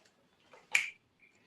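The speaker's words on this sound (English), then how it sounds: "That finger snap" A single sharp finger snap during a Buddhist refuge vow ceremony, close and crisp in a quiet room, with only faint sounds around it.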